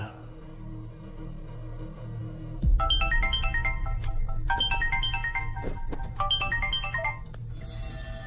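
A telephone ringtone in a horror film, a bright repeating electronic melody that starts suddenly and plays in two or three phrases over a low background hum, with no talking.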